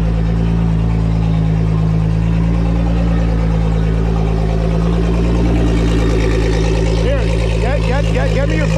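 Twin Mercury 300 Verado outboard engines run steadily at a low, continuous idle, loud and close, with people talking over the drone throughout.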